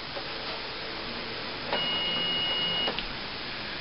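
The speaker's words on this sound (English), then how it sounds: "Just let the printer go through its procedure." An inkjet printer with a continuous ink system fitted runs its startup sequence, and the cartridge carriage whirs steadily at close range with a brief higher motor whine partway through. No one speaks.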